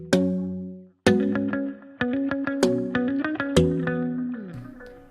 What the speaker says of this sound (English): And then we have a longer reverb.